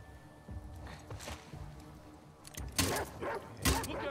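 Dogs barking in the video game The Last of Us Part 2, a few sharp close barks and yelps in short bursts toward the end, mixed with quieter background game sounds.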